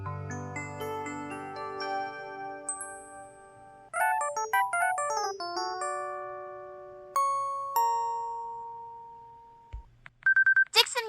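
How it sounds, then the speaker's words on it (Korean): Electronic system tones from an IMB-1000 phone system play in sequence: sustained chiming notes, a quick rising melodic incoming-call ringtone, single bell-like dings, then a short burst of higher beeps. "전화 왔다!"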